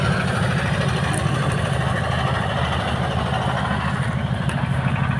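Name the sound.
engine of motorized trawler boat carrying sand on river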